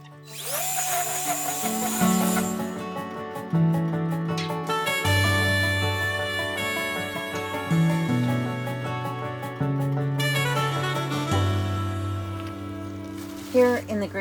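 A string trimmer cuts weeds behind a remote Alaska cabin, its small engine revving up and dropping back in repeated bursts as it strains against tangled growth. It is loud and close, with a brief voice speaking over it.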